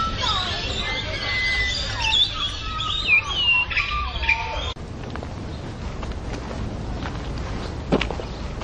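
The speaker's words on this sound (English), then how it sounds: "And the birds are wonderful." Colourful birds sing and chirp with varied whistled notes over a steady ambient background of outdoor hubbub, fading after the first half and leaving only low background noise.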